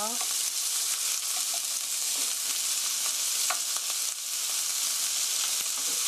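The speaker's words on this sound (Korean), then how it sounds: "같이 넣어서 양파가 노릇노릇하게 될 때까지 볶아주세요." Onion, garlic and ginger frying in a pan for curry, giving a loud, continuous, close sizzle with occasional stirring scrapes throughout, no talking.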